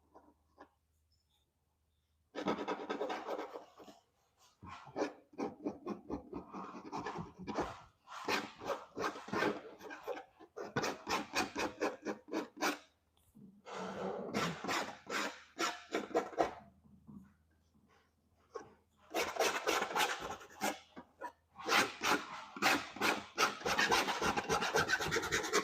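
Palette knife scraping thick impasto paint on a canvas, with repeated rasping strokes in quick bursts separated by short pauses, close and fairly quiet.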